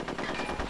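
Rapid burst of machine-gun fire in the game Conker's Bad Fur Day, a short rattling string of shots heard alone.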